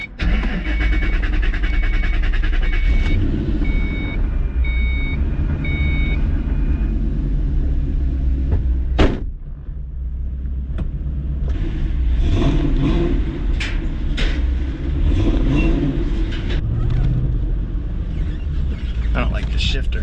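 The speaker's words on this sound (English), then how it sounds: "See if the Mustang will start." A Ford Mustang engine runs steadily with a continuous low rumble at close range, carried alongside a hauling truck's setup, with a few short beeps early and a sharp transient near the middle.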